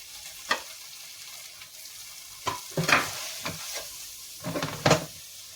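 Chili powder and coriander powder sauté in a pan, soft sizzling with a few scattered spoon scrapes and stirring bursts, fairly quiet.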